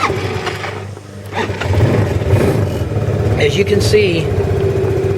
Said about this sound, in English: We're going to turn on the bike right now.